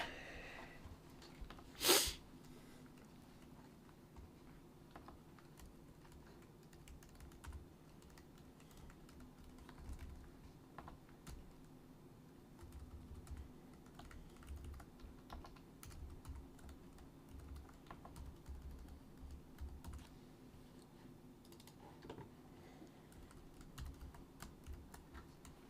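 Quiet, irregular clicking of fingers typing on a computer keyboard continues throughout, with a brief sharper sniff-like burst near the start and no speech.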